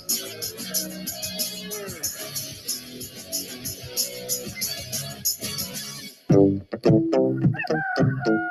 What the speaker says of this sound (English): If the rooster's crowing